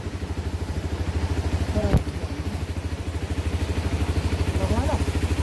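A motorcycle engine runs close by at night on an offroad ride between Phidim and Tinsimana, giving a steady low putter with a clatter partway through as the bike is turned around.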